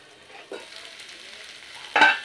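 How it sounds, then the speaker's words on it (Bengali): Rice and pointed gourd (potol) curry sautéing in a pan, a soft low sizzle underneath two distinct stirring scrapes, the second louder and sharper, close by with no talking. "মিনিট আর একটু ঢাকা দিয়ে কষিয়ে নিতে হবে।"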